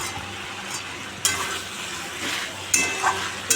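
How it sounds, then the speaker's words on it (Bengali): Meat being slow-fried (kosha) in a pan, a close sizzle under repeated scraping stirs of a spatula, with a few louder strokes and no talking. "আর কষিয়ে কষিয়ে মাংস করছি"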